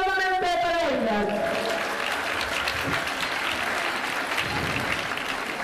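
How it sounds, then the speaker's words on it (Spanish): An audience at a ceremony bursts into hearty applause, dense clapping that follows a brief tail of amplified voice or music at the start and carries on steadily to the end. "¡Fuertes aplausos nuevamente para ellas!"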